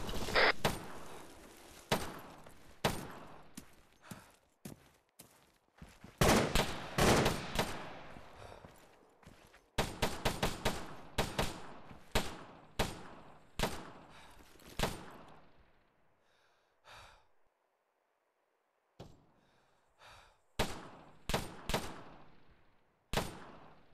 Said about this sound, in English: We're taking some sporadic fire from up high on the left side of the hill